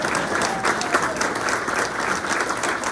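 An audience at a Rotary meeting in Corona claps steadily throughout, a dense continuous wash of applause from a room full of people.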